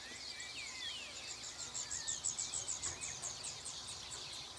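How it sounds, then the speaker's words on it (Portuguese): Faint, distant chirping and twittering of small birds, several calls overlapping against a soft outdoor hiss. "Esses passarinhos cantando naquela árvore ali, ó."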